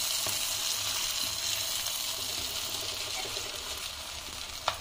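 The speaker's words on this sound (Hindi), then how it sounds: "तो दूसरी साइड से भी इसे हम 2 से 3 मिनट के लिए और पकने देते हैं।" Besan-stuffed green chillies fry uncovered in a pan on their second side, giving a continuous close sizzle and bubbling hiss with a low hum underneath and a small clink near the end.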